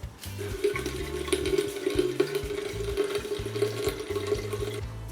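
Running water wetting a person's hair at the start of a haircut for a hair transplant client, a steady splashing flow lasting several seconds, close and fairly loud, with no talking.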